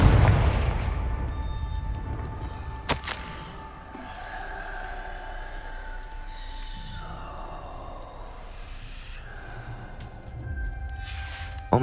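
Confringo blasting spell explosions in Hogwarts Legacy, with a loud opening burst, a sharp crack, then rumbling, whooshing magical blasts and tones fading and swelling over the scene.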